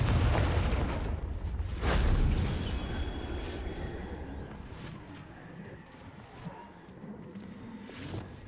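A Confringo blasting curse cast in Hogwarts Legacy goes off with a loud booming blast that rolls away into a fading rumble, followed by a couple of smaller bursts, with no talking.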